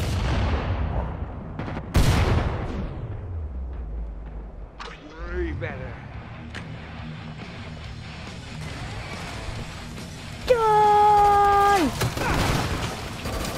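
A powerful gun fires in Killing Floor 2, with heavy booming shots and reverberant blasts mixed with game effects and a rising electronic tone, and a voice speaks during the action.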